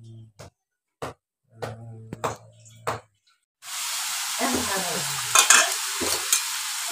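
Bottle gourd curry stirred and frying in a pan, with a steady loud sizzle starting partway through after quieter knocks and scrapes of a utensil.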